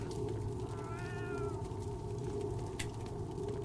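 A cat meows inside the Roblox zombie game, one drawn-out rising and falling call over steady game background noise.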